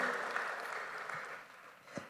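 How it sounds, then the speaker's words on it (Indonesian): A church congregation applauding during a sermon, a steady wash of clapping that fades gradually, fairly faint, with a couple of louder thumps near the end. "Tepuk tangannya boleh yang paling meriah buat Yesus Tuhan kita."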